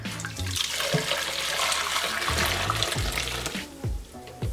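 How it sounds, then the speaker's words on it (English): Nine cups of water pouring into a new cooking pot for mole, a steady splashing stream with brief breaks between pours, close and clear, no speech. "we're going to use 9 cups of water and we're gonna place them on the new"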